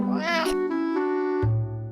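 A domestic cat meowing close by: a drawn-out, tonal, slightly wavering meow ending in a lower, shorter drop, clear and alone.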